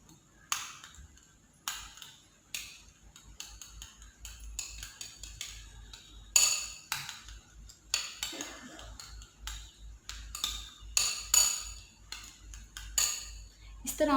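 A spoon clinks and scrapes against a bowl while salted ingredients are mixed for a quick bread sandwich breakfast, with repeated close, sharp taps and stirring strokes in a steady irregular rhythm and no talk.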